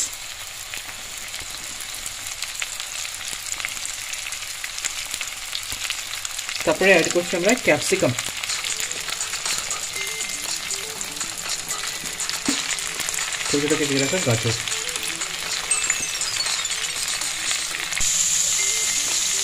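Cauliflower, beans, capsicum and small-cut carrot fry in a pan for fried rice with a continuous bright sizzle. Two short bursts of speech come over it, and the frying carries on alone between them.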